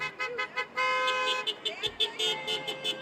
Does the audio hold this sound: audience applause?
no